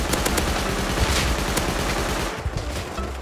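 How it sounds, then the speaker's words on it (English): Rapid semi-automatic rifle fire from several shooters in the survival game Rust, with dense overlapping cracks at close range that ease off briefly toward the end. "Two SARS on me. Well, not on me, but two SARS shooting me now"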